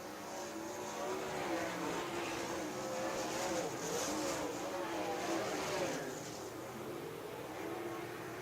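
USAC sprint cars race the final lap of a heat at Mohave Valley Raceway, a loud, distant massed engine roar that swells and then eases slightly as the pack passes.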